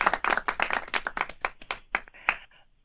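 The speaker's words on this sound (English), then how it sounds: "you waited for the complete applause" Audience applause following a classical chamber performance by young competition winners: a fairly small crowd's hand claps, quite close and distinct, tapering off toward the end.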